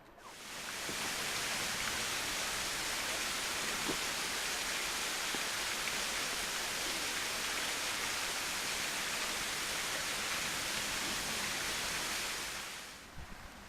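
Near Craigneith Castle, a waterfall roars as a dense, steady broadband rush that fades in and holds loud and even, with no voices over it.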